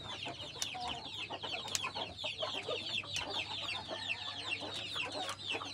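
A hen with freshly hatched chicks keeps up soft, repeated clucking mixed with high, rapid peeping from the chicks, all close and fairly quiet.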